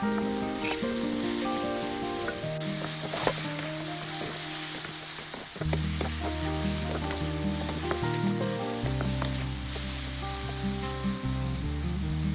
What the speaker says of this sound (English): add the chopped mushrooms to the pan and let them sauté until they release all their moisture and start to turn golden